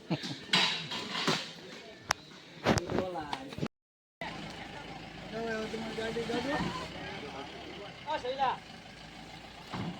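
Metal pots and utensils clank and scrape as they are set down, with people talking and an engine idling nearby.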